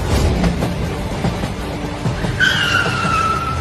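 A cartoon train screeches as it brakes to a stop, a loud continuous grinding squeal with a high metallic whine rising near the end, heard alone without talk.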